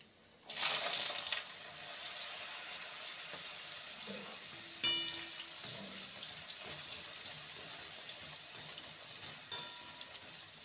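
Kabuli chickpeas drop into hot refined oil with a sudden burst of sizzling that settles into a steady, moderately loud frying hiss, with a few small clinks along the way.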